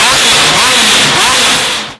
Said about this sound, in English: We got the straight piped F430 here,